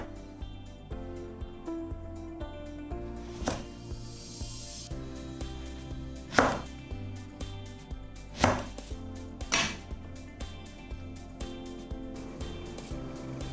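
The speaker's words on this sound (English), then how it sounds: "Cut it into 3 inches in length or about 4 finger width. Then into quarters." Knife chopping eggplant into pieces on a cutting board in a home kitchen, a steady series of dull knocks with a few louder thuds over background music.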